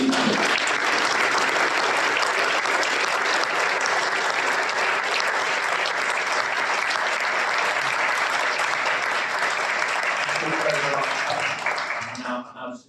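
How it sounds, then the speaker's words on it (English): Panel event audience breaks into sustained, full applause that holds steady for about twelve seconds before tapering off quickly at the end. "give a huge round of applause to the"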